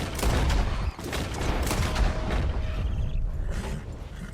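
Repeated gunfire in Red Dead Redemption 2 as a rabbit is shot at outdoors, a dense loud volley of overlapping cracks and booms running steadily through the whole stretch.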